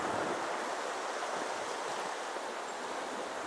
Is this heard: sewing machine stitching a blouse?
no